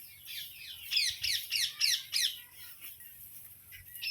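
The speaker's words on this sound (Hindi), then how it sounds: "और चिड़िया इतना लड़ाइयाँ कर रही हैं, आप लोग सुनिए चिड़ियों की आवाज़।" Small birds squabble in a village during rice-planting season, sending out a rapid burst of sharp, squeaky chirps and squawks at close range. Quieter calls follow over faint background hum.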